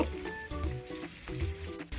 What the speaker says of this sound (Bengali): প্রথমে মাছগুলোকে আমাকে ভেজে নিতে হবে